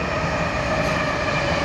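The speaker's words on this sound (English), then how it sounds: "just excuse the train going past" A train rumbles past near a garden allotment, a loud, steady continuous roar with a sustained tonal hum, close by and filling the whole moment without speech.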